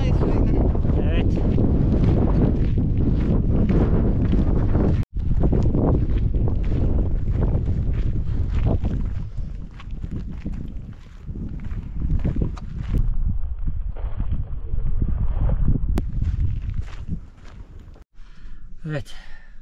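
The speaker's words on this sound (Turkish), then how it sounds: "Yoğun rüzgar altında." Strong wind near the Armenian border at the Ani ruins buffets the microphone with a loud, continuous low roar, gusting and dipping, with voices faintly mixed in.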